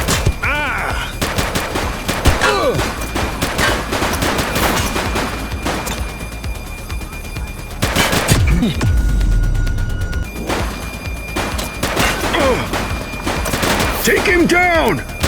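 Sustained gunfire in a police shootout in The Precinct video game, dense bursts of automatic and rapid shots crackling loudly for the whole stretch, with shouted voices breaking in between volleys.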